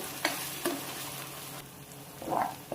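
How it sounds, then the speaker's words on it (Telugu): Onions frying in a pan for a cauliflower curry, a soft steady sizzle broken by a few sharp scrapes of a stirring spoon, with a brief louder burst of spattering near the end. "చూసారు కదా, బాగా వేగిపోయాయి ఆనియన్స్"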